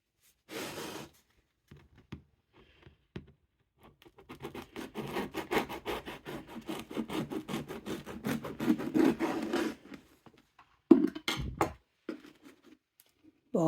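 A knife saws through a loaf of bread baked in an air fryer, giving several seconds of steady, close rasping scratches with a brief pause and a short final cut.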